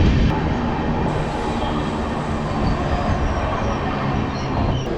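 Vistadome train rolling through hilly country between Visakhapatnam and Araku, a steady, loud rumble of wheels and carriage noise filling the whole stretch without pause.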